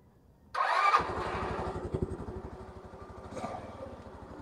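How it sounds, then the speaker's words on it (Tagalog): A motorcycle fitted with a DC CDI ignition cranks and fires, catching quickly and settling into a steady, close idle whose rhythmic chugging continues throughout with a slight rev near the end. "Tapos, i-start natin yung motor."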